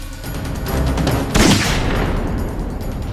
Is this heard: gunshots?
yes